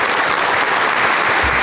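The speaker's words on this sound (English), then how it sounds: "if we can give it to a nice round of applause for Zeal" Applause from an audience at a youth enrichment program presentation, a steady dense roar of clapping that fills the whole stretch at close, loud level.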